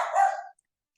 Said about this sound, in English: He barks every time